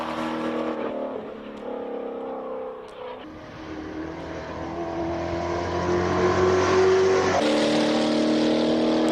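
A turbocharged four-cylinder Birkin race car climbs a hill course in Cape Town, its engine revving hard and rising in pitch through gear changes as it passes fairly close.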